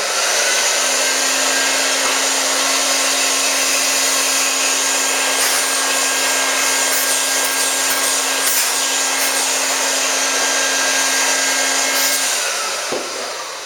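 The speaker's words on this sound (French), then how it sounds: "Je vais simplement aspirer un petit peu du résidu qui est inutile." A loud, steady vacuum machine roars close by, sucking paint stripper residue out of a carpet with a constant whine and airy rush that runs nearly unbroken before powering down at the end.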